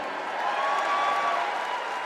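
Crowd at a political convention speech, cheering and applauding in a dense, continuous roar with a faint whistle rising through it, loud and close for the whole stretch.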